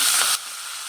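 Drained fenugreek leaves drop into hot oil with browned garlic and cumin, setting off a loud sizzling hiss for a split second that quickly settles into a softer steady fizz.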